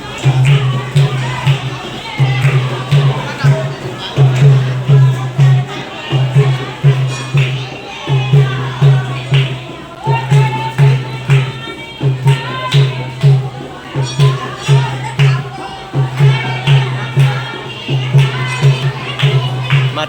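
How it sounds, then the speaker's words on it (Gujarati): A dense crowd of devotees at a hilltop goddess temple by the Mahisagar river, a continuous loud murmur of many voices over a repeating low rhythmic drone, with nearby talk. "જો ભીડ."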